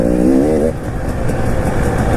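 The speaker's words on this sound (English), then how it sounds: "This TPI engine's brilliant." 2019 KTM 300 EXC TPI two-stroke dirt bike engine revving hard, a rising rasp that drops off sharply into a lower, choppy idle burble, loud and close with no talk.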